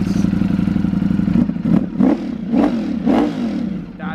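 A Ducati Panigale with a Bren Stage 2 flash idles with a loud, lumpy rumble, then barks through a series of four or five sharp throttle blips, close and aggressive, with no talk.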